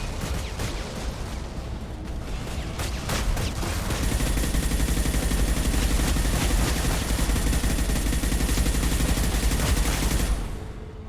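Dense, sustained heavy gunfire in a Mass Effect 2 battle, rapid overlapping bursts and blasts that build and hold loud for several seconds, then cut off.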